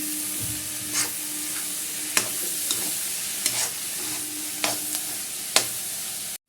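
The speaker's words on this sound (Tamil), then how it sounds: "அதையும் நல்லா வதக்கிக்கலாம்" Carrot sautéing in a pan gives a soft, even sizzle, punctuated by about seven sharp spatula taps and scrapes at irregular intervals, close and moderately quiet, with no one talking.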